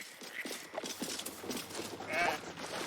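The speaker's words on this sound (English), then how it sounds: "The sheep's voice warbles. You realize it's trying to say bar." A sheep bleats with a warbling, wavering voice in the fantasy video game Baldur's Gate III, one short cry rising over soft game ambience and faint background voices.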